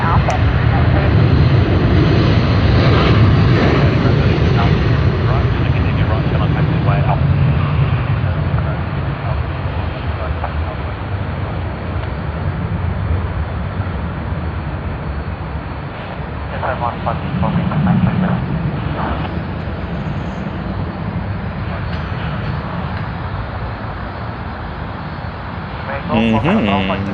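An aircraft taxis at Sydney Airport, a steady loud engine drone with a low rumble that swells and eases over time, while radio chatter and talk run over it.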